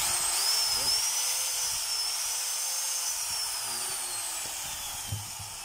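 A Stanley 7213 power tool runs during a test after repair, giving a steady, continuous high whine at moderate level that holds throughout with only small handling knocks.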